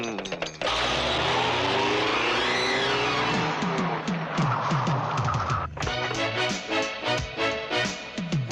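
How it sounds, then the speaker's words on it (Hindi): A car drives with a loud, continuous engine roar and tire squeal, then revs and screeches in a film scene, with a voice speaking over it. "हम अपने सुमन बिटिया को गाड़ी में बिठाकर बंदर के पास लेकर जाएंगे"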